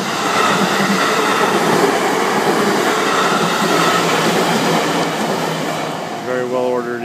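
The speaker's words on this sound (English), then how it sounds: "Here's a train." A train on a Japanese railway rumbles past at close range with a continuous loud roar and rattle, then wheels squeal and the rumble eases toward the end.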